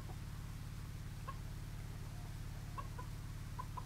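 Several chickens feeding together out of their coop, soft clucks scattered over a steady low hum, fairly faint and without speech.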